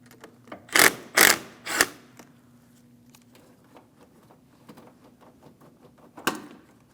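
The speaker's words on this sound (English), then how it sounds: "We'll loosen this enough that we can start removing the terminal end from the battery post." A ratchet wrench loosening the 10mm battery terminal nut on a 2015-2020 Cadillac Escalade: three loud, sharp metallic clicks close together, then quieter scattered ratcheting ticks and one more clear click near the end.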